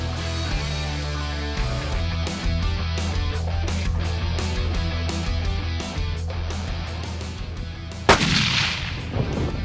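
Rifle shots at a long range shooting school in Texas, with a loud sharp crack near the end trailing into rolling echo, set against a steady background of other noise.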